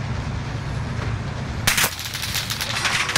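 A loud burst of rapid automatic gunfire breaks out in a shooter video game after a stretch of quiet ambience, then rattles on in quick repeated shots.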